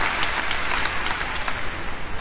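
A French crowd at a European gymnastics championship cheering and applauding, a dense, steady wash of clapping and shouts from many people filling the arena.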